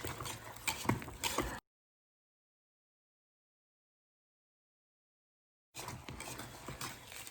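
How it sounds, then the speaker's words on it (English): Stirring of a tallow, charcoal and clay soap mixture, a continuous scraping swish that cuts out into silence before resuming, fairly faint and close. "you just have to keep stirring and stirring until it gets a kind of a waxy,"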